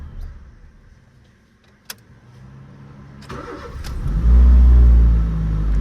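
A 2006 Honda Fit with the L13 engine and a coolant temperature or air intake temperature sensor fault cranks on a start attempt. A quiet stretch and a click come first, then the engine turns over and swells into a loud, close roar that holds to the end.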